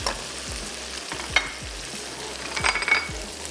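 Tomatoes and onion go into a hot frying pan for Kolhapuri mutton masala, giving a steady sizzle with a few scraping stirs and small clatters of a spoon against the pan.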